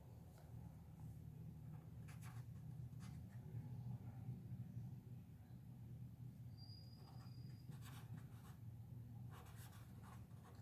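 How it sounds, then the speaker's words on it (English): A pen writes by hand on paper during a biology lesson, with soft scratchy strokes in short bursts over a faint steady low hum, quiet and close, no talking. "Let me write."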